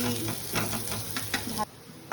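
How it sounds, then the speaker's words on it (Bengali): Semolina and potato snacks fry in a pan with a steady sizzle, broken by several scraping strokes of a spatula stirring them; the sizzle briefly drops near the end. "আর একটু 5 মিনিট মতন নেড়ে ছেড়ে লাভিয়ে নিতে হবে।"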